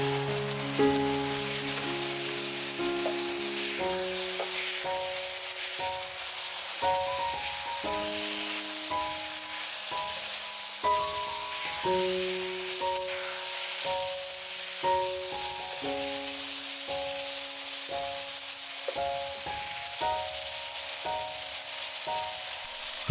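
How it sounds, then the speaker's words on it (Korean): Fried eggplant stir-fried in a thick spicy sauce, a steady bubbling sizzle with soft stirring taps, close and moderate, under a melodic background music track. "튀겨뒀던 가지를 넣고 볶아줍니다"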